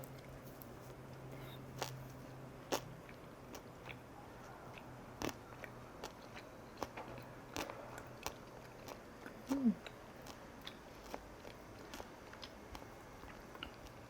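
Quiet close-up chewing and biting of Korean jeon pancakes and spicy skate salad, with soft wet mouth sounds and scattered small clicks over a low, steady background.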